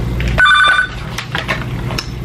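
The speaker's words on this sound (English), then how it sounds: "I heard this phone ring." A telephone rings once in a short electronic burst over steady low background hum and noise, with no voices.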